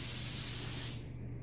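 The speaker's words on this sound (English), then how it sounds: "So we're just going to spray all 3 of them." Aerosol baking spray with flour and butter built in, hissing steadily as it coats three cake pans, a close continuous spray lasting about a second before it stops.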